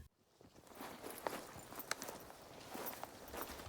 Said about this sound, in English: filled with the subtle sound of feet on a trail